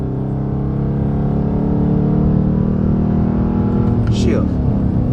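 A Dodge Charger engine holds a loud, steady drone as the car is driven and downshifted, with the revs climbing and shifting pitch near the end.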